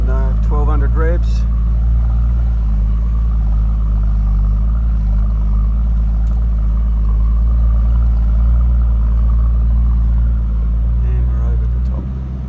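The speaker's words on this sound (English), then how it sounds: "we're doing 1200 revs" A 4WD vehicle's engine idles along at 1200 rpm on Googs Track in South Australia, a steady low drone beneath the cabin, with brief voices at the start and end.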